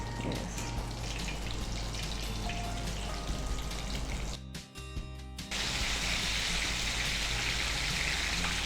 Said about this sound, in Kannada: ಲೈಟ್ ಬ್ರೌನ್ ಕಲರ್ ಬರುವವರೆಗೆ ನಾವು ಫ್ರೈ ಮಾಡಬೇಕು.